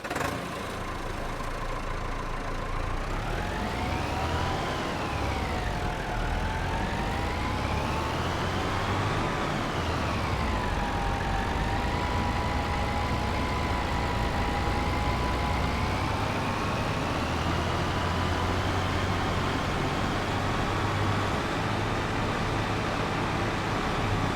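A tractor engine in the video game Farming Simulator 25 runs steadily for the whole stretch, with a droning rumble and a whining tone that rises and falls as the revs change.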